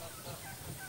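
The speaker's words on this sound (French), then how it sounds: "C'est les oies là-bas." Geese honking at a distance on a fish farm in Soa, Cameroon, faint and steady in a short burst over a low outdoor rumble.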